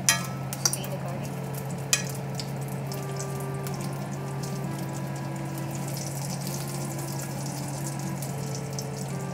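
Two cloves of garlic sautéing in a pan, a steady, fairly quiet sizzle with a few light clicks of utensils at the start, no one speaking.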